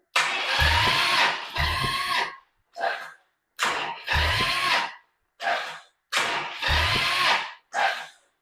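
A 392 HEMI engine's starter cranks in repeated labored, struggling bursts, each grinding for about a second with short pauses between, loud and close.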